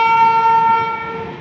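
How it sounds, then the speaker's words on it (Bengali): A passing train's horn sounds close alongside the moving Netaji Express near Belur station, a sustained steady tone that holds strong and then eases slightly over the rumble of the rails. "ট্রেন আমাদের অতিক্রম করছে"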